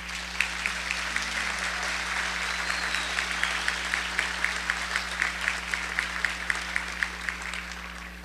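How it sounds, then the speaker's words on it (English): A graduation audience at a college commencement breaks into sustained applause, a broad even rush of many hands with distinct sharper claps standing out near the microphone over a low steady hum. "So why not give them a round of applause at this point?"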